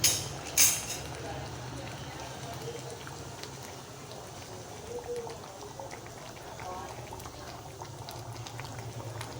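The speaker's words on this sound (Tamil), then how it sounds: "அஞ்சு நிமிஷம் நல்லா கொதிக்க வச்சு எடுத்துக்கலாம்" A pot of fish curry bubbles and simmers on the stove with a soft, steady gurgle, and a brief knock near the start.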